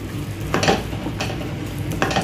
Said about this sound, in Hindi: इसको अच्छे से मिक्स देंगे।